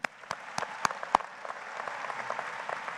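Audience applause at a 2019 high school graduation ceremony for the student speakers, a few sharp individual claps at first, then a steady, moderately distant patter of many hands that continues throughout.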